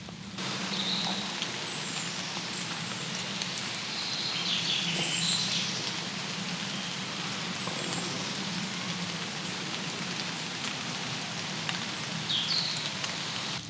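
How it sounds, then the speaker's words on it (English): Steady summer rain falls and patters on surfaces in a continuous, even hiss, with faint bird chirps now and then in the background. "Okay, let's listen to the rain."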